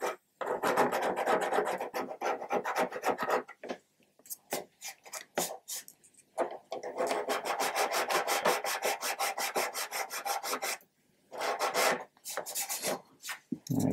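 Sanding filler smooth on a 1/200 Trumpeter Scharnhorst plastic ship model, with long repeated rasping back-and-forth strokes, close and fairly loud, broken by short pauses and no talk.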